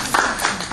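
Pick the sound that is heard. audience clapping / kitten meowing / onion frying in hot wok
audience clapping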